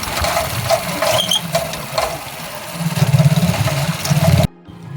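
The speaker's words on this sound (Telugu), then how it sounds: "సిమెంట్ రోడ్ రాకముందు గుంతలలో డ్రైవ్ చేయడం వల్ల నా బైక్ సౌండ్ చూడండి." A motorcycle engine running after being ridden through potholed road, with a steady mechanical rattle and clatter over a low rumble that swells slightly before cutting off abruptly near the end.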